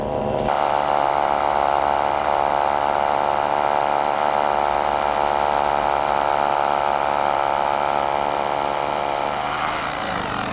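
A power drill whines at a steady high pitch for about ten seconds, close and loud, spinning down at the end, drilling during artificial grass bocce court border installation with rebar.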